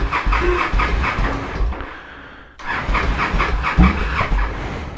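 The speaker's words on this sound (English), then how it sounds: "Let's put the fast idle on, which is odd." A motorcycle engine running on fast idle in neutral, a steady loud rumble with a rhythmic pulse that dips briefly before picking back up, sounding noisy and a little hesitant.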